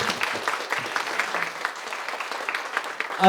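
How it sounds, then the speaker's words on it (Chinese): An audience at a press conference for a Hakka cuisine cooking competition gives a moderate round of scattered, pattering claps that carries on evenly for several seconds. "大家给他们鼓掌一下"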